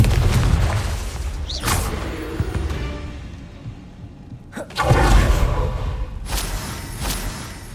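Confringo spell blast in Hogwarts Legacy: a low booming rumble with whooshing bursts, swelling into a deep, loud explosion partway through that lingers before fading, set against a rumbling game backdrop.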